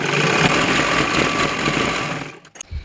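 A sewing machine stitches two layers of cloth, a fast steady mechanical whir running continuously up close before slowing and stopping with a few clicks.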